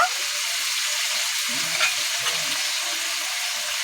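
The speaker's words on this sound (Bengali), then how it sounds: "ভালো করে ভেজে নেব সবজিগুলো" Winter vegetables for a spinach and cabbage ghonto fry in a pan with a loud, close, continuous sizzling hiss and a few faint stirring knocks.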